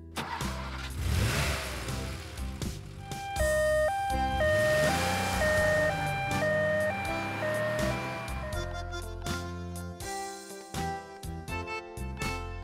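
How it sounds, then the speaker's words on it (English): A toy-style ambulance siren wails in rising and falling tones over a bed of cheerful children's music, clear and fairly loud for several seconds mid-clip. "Small. Ambulance."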